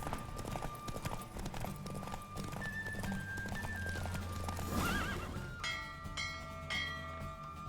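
A horse gallops in a race in The Witcher 3, its rapid clip-clop hoofbeats running continuously, with whinnies and wind rushing past and bell-like chimes ringing near the end.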